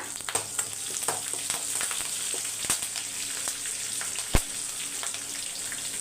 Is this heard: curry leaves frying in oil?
yes